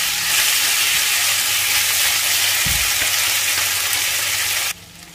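Tongkol fish fries in a pan as its moisture cooks off, a loud, continuous close-up hiss of oil with one brief low thump, cutting off abruptly near the end.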